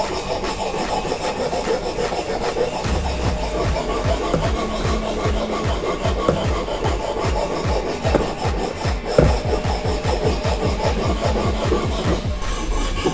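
A knife is sharpened on a whetstone in steady, rhythmic grinding strokes that grow quicker and more regular as they go on, heard close against a constant background hiss.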